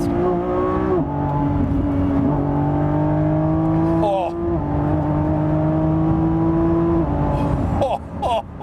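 A 1,000-horsepower 2024 Lamborghini Revuelto supercar accelerates hard onto a freeway, its loud engine note climbing through several quick upshifts, heard from inside with a brief exclamation from the driver.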